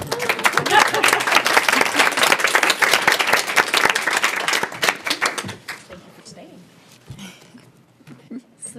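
Audience applause at a public school board business meeting, dense clapping for about six seconds that thins out and fades, with scattered claps and murmuring at the end.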